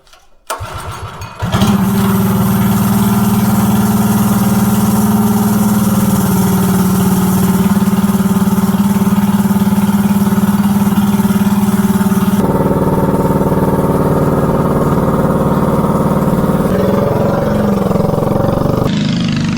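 A propane-powered mini bike engine cranks briefly, fires up and settles into a loud, steady idle close by, its pitch shifting slightly partway through as the throttle is adjusted, with no talking over it.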